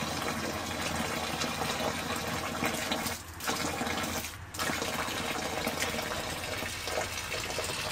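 Coolant water drains from the radiator of a Hyundai Accent Era in a steady, continuous splashing rush, briefly dipping twice before flowing on at an even level.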